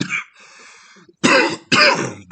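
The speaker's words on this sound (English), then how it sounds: "I'm coughing right now" Two harsh, loud coughs close to the mic, following a brief voiced sound and a quiet pause.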